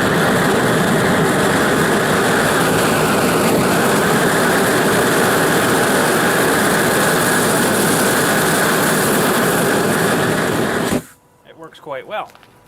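Propane monster torch fitted with a nozzle roars as a loud, steady, broadband blast for about eleven seconds, then cuts off abruptly, with a person speaking briefly afterward.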